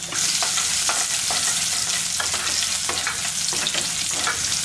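Spices and chopped small onions temper in hot oil for a chana masala gravy, giving a loud, steady, close sizzle with crackling pops and the occasional scrape of stirring.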